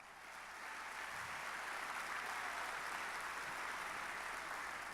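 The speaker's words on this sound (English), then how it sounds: "Let's give these leaders a round of applause." A room of people applauds Long Beach college trustees and city leaders at a public event, a steady, even hiss of many hands heard from a distance, quiet and unbroken throughout.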